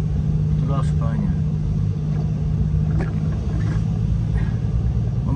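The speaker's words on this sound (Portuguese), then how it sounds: "Este é o caminhão de 3 eixos" A three-axle truck rolls by on a road, its low engine rumble constant and heavy beneath someone talking in the foreground.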